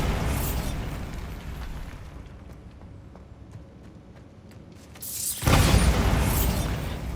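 A Bombarda explosion spell cast in a video game bursts out loudly with a broad, roaring blast that fills the sound field, after a quieter stretch of game ambience with scattered small ticks.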